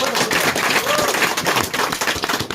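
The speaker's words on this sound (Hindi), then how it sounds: "ताली बजा दीजिए प्रभु के लिए।" A church congregation claps together in praise, a dense, loud, continuous patter of many hands with no pauses.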